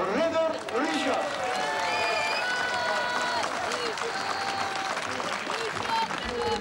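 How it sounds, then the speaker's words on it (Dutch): Crowd applause and cheering at a cyclocross race event honoring rider Richard Groenendaal, clapping under a layer of music and tonal sounds, fairly loud and continuous. "Een groot applaus voor ridder Richard."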